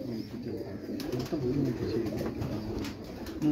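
Low, soft pigeon cooing repeats in a murmuring rhythm on a rooftop, close by, with faint background noise and a brief rustle.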